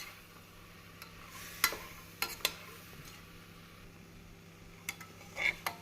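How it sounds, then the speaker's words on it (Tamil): Chopped vegetables being stirred into masala in a pot for vegetable biryani, with a few sharp spoon scrapes and clinks against the pot over a faint sizzle. "காய்கறிகளை நன்றாக மசாலாவுடன் நாம் கலக்க வேண்டும்."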